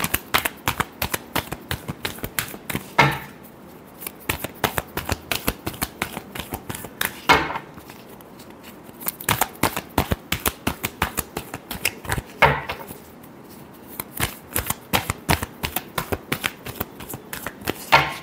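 Tarot cards shuffled by hand in repeated rapid riffles, crisp close flutters and slaps arriving in bursts separated by short pauses, with no talk.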